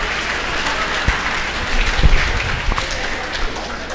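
A large audience claps at a medical lecture event on secondary headaches, the applause dense and continuous with a few sharper hand strikes standing out, fairly loud and close.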